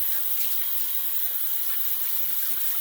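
Water runs steadily and close by as a tub is rinsed out, a constant broadband splashing rush with no talk over it.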